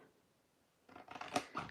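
After a quiet moment, close scissors snip and slide through paper in a short burst of crisp cutting sounds.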